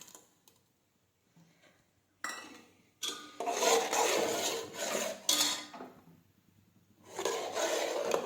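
Ground tomato is sautéed in a pan and stirred, heard as intermittent bursts of scraping and clattering against the metal after a quiet start, close by and without speech.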